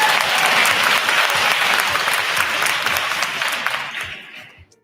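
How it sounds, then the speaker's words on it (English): Applause sound effect on a livestream, a dense, steady burst of clapping from a crowd that holds for several seconds and then fades out to silence. "Applaud that guy."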